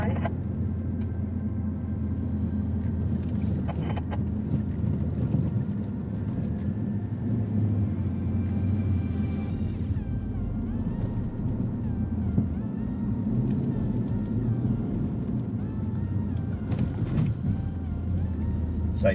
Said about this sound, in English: So you can hear by the motor revs and stuff like that, we're not actually having to put a whole heap of effort into it.